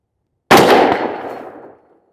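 A single close, loud rifle shot firing Atomic Ammo 77 grain match ammunition outdoors in wind, a sharp crack followed by a long rumbling decay of about a second and a half.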